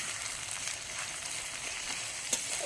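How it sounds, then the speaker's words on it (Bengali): Onions frying in a pan until brown make a steady, faint, even sizzle throughout, with a soft crackle near the end. "এই এটা ব্রাউন ব্রাউন করে ভালো করে ভেজে নিতে হবে পেঁয়াজগুলো।"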